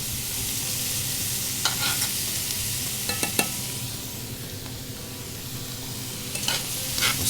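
An Italian sausage bake with butter and crushed red pepper sizzles steadily in a pan while a utensil stirs it, giving a few clustered scrapes and clinks over a constant close frying hiss.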